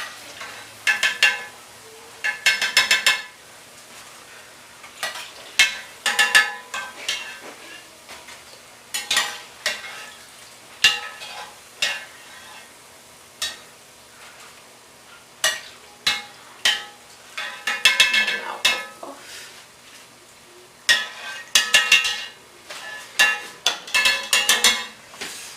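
Cameroonian puff puff dough frying in hot oil, with bursts of bubbling sizzle and scraping and stirring in the pan coming and going throughout, fairly close and with no talking.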